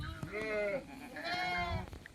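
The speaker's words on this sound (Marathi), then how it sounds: "बिटलची शेळी आहे ही." A Bittal breed goat with long ears bleats twice, two drawn-out wavering calls heard close and clear on a farm, with a little background talk.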